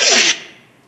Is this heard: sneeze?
yes